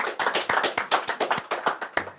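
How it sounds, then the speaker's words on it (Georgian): A studio audience at a TV quiz show applauds a correct answer with brisk, steady clapping that is close and lively for a couple of seconds. "იმიტომ რომ კიდევ ერთხელ ველოდები აპლოდისმენტებს"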